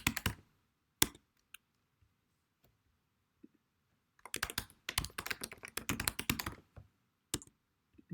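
Typing on a computer keyboard comes in short bursts of crisp, close key taps separated by quiet pauses, with a dense flurry in the latter half and a few isolated clicks.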